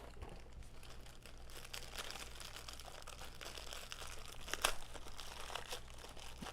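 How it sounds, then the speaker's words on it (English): A plastic package of graham crackers is pulled open with steady, close crinkling and rustling, and a sharper crackle comes near the end. "Open your graham crackers"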